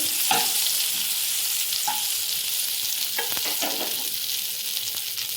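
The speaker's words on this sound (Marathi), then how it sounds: "बटरमध्ये सर्व भाज्या आपण फ्राय करून घेऊ." Mixed vegetables fry in butter in a hot kadhai, a loud steady sizzle throughout with occasional stirring scrapes and clinks of a spoon against the pan.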